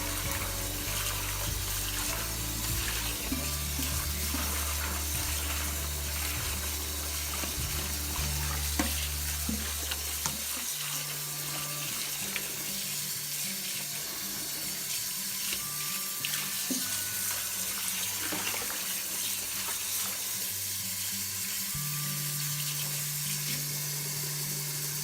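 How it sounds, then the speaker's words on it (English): Collard greens being stirred and swished in a sink full of water, a steady close sloshing and splashing with running-water hiss throughout and no talking. "I'm just stirring them up"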